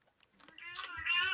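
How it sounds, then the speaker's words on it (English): A cat, just woken up, gives a single drawn-out meow that rises in strength over about a second, close by in a quiet room. "The cat's woken up"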